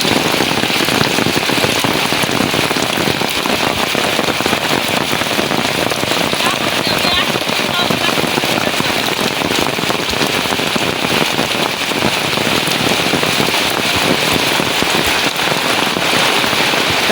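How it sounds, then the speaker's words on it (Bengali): Heavy rain pours steadily during the monsoon season, a dense, loud, unbroken hiss of drops drumming on surfaces with faint crackling, lasting throughout with no pauses. "এই বর্ষাতে বৃষ্টিতে যাইতে ভালো লাগে আর ভিজতে ভালো লাগে"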